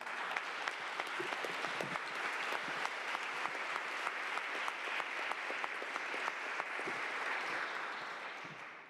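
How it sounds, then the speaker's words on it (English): Sustained applause from an audience at a city council meeting, steady clapping throughout with a few sharper claps standing out near the front. "So he deserves a round of applause for that."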